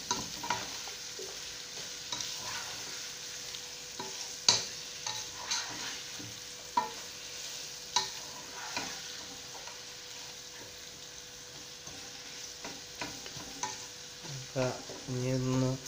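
Sliced onions salted with about a teaspoon of salt fry in a pan for a Kerala-style potato curry, with a soft steady sizzle punctuated by regular close scrapes of stirring.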